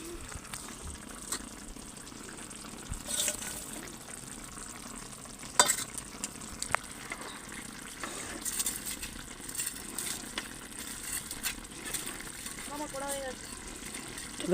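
Tangra fish frying in hot oil in a pan with potatoes, a faint steady sizzle with occasional stirring clatter, heard under quiet talking.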